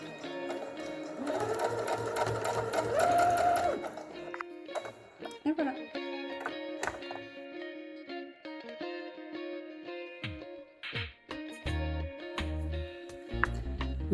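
A sewing machine stitches the sides of a fabric wipe in a fast, even whirring burst, followed by short starts and stops and clicks as the fabric is adjusted, with a voice speaking at times.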